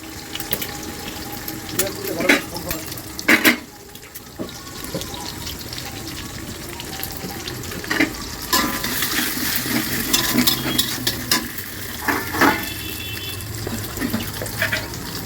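Eggs go into a hot pan and fry with sizzling while a spatula scrapes and stirs in irregular bursts, with clatter of utensils and faint talk in the background.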